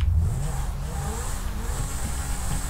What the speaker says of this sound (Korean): 야, 엔진 소리 지기네.